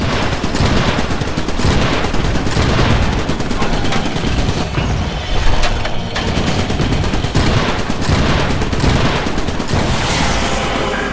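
Shotgun turret in the video game Iron Brigade firing on a beach, heard as a loud, dense barrage of booming gunfire that keeps up for the whole stretch with no voices.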